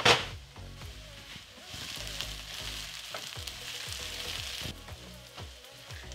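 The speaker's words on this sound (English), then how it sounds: "cook the onions until they start browning" Diced onions sizzle and fry steadily in a pan for stuffing, a continuous crackling hiss with scattered pops and a few stirring scrapes, fairly close and with no voices.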